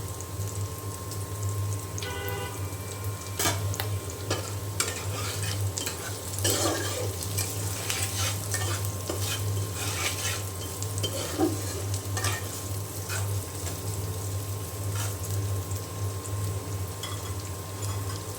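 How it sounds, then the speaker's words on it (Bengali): Onions frying in a pan crackle softly while a spatula stirs and scrapes in repeated strokes, a steady low hum running underneath, close and moderately quiet with no speech. "তো পেঁয়াজটা ভাজা ভাজা করে তারপরে নামিয়ে নেব।"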